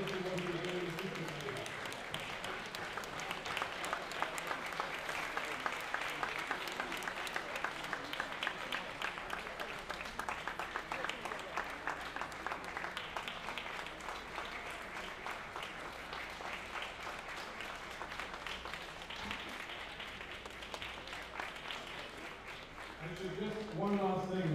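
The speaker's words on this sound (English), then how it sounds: "let us all give him a round of applause for what he has done for Haiti" An audience at an award ceremony applauds former Haitian Prime Minister Laurent Lamothe with sustained, dense applause that holds steady for over twenty seconds, with voices mixed into the clapping.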